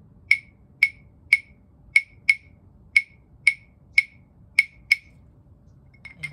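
Wooden claves knocked together in a moderate, fairly even pattern of about ten crisp, resonant clicks, close and clear, with a faint extra tap at the very end.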